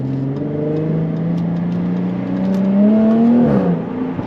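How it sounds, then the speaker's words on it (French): A Jaguar F-Type S convertible with a 380 horsepower engine and sport exhaust pulls while driving, heard from inside the cabin with windows closed: a loud, smooth exhaust drone rising in pitch under acceleration, then easing off with a shift, no talking. "même avec les vitres fermées, on entend vraiment l'échappement"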